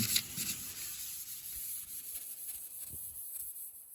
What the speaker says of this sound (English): I just want to scuff it just a little bit